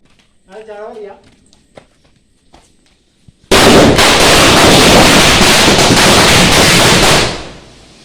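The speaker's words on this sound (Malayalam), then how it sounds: "ഒരു പടക്കം പൊട്ടിക്കാമെന്ന് വിചാരിച്ച്" A firecracker set off for the Vishu festival bursts after a brief voice and a few small clicks, erupting into a loud, dense crackling blast that lasts several seconds before fading out.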